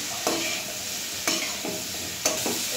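Potatoes and papaya fry in oil with green chilli and salt, hissing steadily while a spatula scrapes and stirs the pan in regular strokes about once a second.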